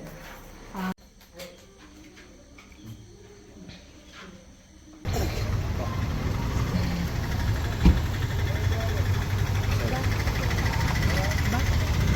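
After a few quiet seconds with faint voices, a steady low engine rumble starts and continues, like a car idling close by.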